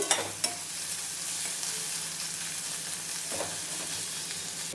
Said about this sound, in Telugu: ఆనియన్లో పచ్చిదనం పోయేంత వరకు వేపుకుందాం